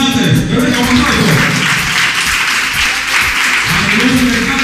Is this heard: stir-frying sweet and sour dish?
no